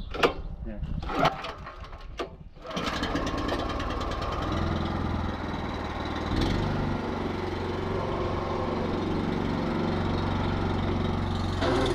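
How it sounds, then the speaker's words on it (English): Small 13 horsepower Honda engine running on a horse-drawn hay tedder, a steady close mechanical drone that starts after a few seconds of handling knocks and continues evenly, with talk over it. "This little 13 horsepower Honda motor is very good on gas"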